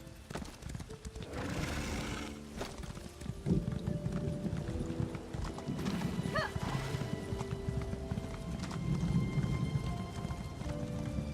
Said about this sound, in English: Get up there, horsey.